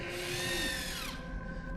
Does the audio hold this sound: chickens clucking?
no